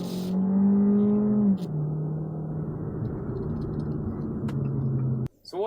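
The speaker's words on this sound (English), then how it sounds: "Put your foot down and the car starts to go." Fiat 500X Cross Plus engine hums and rises in pitch as the car pulls away, a steady close-up interior drone that eases after a moment and carries on under road noise, ending with a brief cut.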